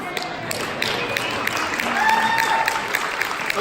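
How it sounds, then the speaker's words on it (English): An audience at a live interview with hairstylist Chris Appleton claps, a moderate, scattered round of applause with some louder claps, while people talk over it. "just clap us"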